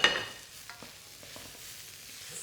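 Onions, spring onion and chilli frying in a pan as the base for Singapore chilli crab, with a steady soft sizzle and a few stirring scrapes and clicks close by.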